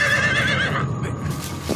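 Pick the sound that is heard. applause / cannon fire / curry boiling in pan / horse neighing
horse neighing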